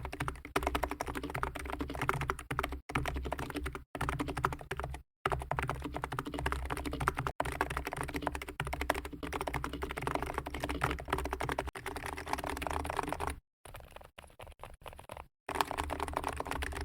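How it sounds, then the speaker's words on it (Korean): Office computer keyboard typed on continuously, a quiet close patter of rapid key clicks and clacks with a few short pauses, no voices. "사무용 키보드."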